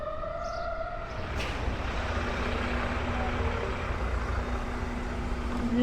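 Fire truck sirens wailing at a distance, brief and partly masked by steady street and traffic rumble as the trucks pass ahead.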